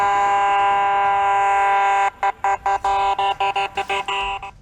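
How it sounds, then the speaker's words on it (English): Emergency siren on a fake motorcade vehicle, a loud sustained electronic wail that switches to rapid choppy pulsing bursts, close and alone. "running full emergency sirens like a marked cruiser"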